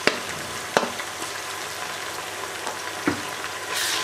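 Ginger and garlic hit a hot pan while cooking a masoor dal pakora curry, producing a continuous close sizzle broken by a few sharp spoon or stirring knocks.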